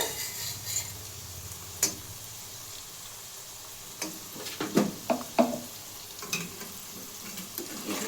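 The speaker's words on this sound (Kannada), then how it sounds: "ಸ್ವಲ್ಪ ಎಣ್ಣೆಗೆ ಚೆನ್ನಾಗಿ ಫ್ರೈ ಮಾಡ್ಕೊಳ್ಳೋಣ ಫ್ರೆಂಡ್ಸ್." Palak paneer ingredients frying in oil in a village-style home kitchen, a low steady sizzle with occasional sharp crackles and stirring clinks bunched toward the end, close and fairly quiet.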